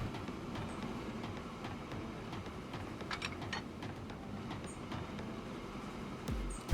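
Trains run on rails in the video game Transport Fever 2, giving a continuous low rumble with faint clicking and an occasional thin squeal, fairly quiet and steady throughout.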